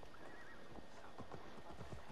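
A horse's hooves clip-clop in a steady trotting rhythm in the video game Assassin's Creed Valhalla, close and distinct over a constant background wash.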